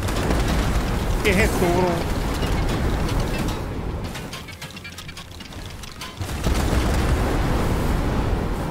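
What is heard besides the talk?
explosions in the video game Fortnite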